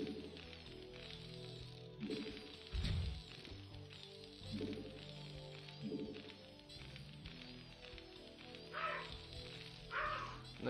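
A pet dog barks and whimpers in short bursts from a nearby room, fairly faint and intermittent, over a quiet indoor background with game sounds.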